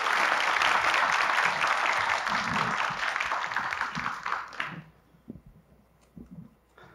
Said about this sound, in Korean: 역시 박수 보내주십시오.